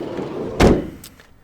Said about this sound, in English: I say opening up the rear doors.